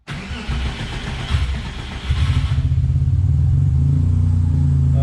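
A Subaru Impreza with a turbocharged EG33 engine cranks for about two seconds, then fires and settles into a loud, steady idle, close up with no talking.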